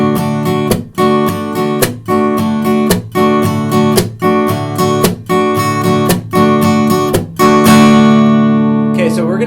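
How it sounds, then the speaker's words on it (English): Guitar strummed in a steady rhythm with percussive muted chucks, struck with the strings damped by the picking hand, alternating with brief ringing chords. The pattern is loud and close, and it ends on a sustained chord. "we're muting the strings as we simultaneously strike the strings"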